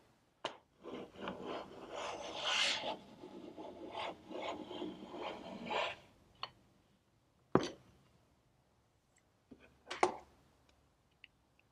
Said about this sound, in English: So let's get planing.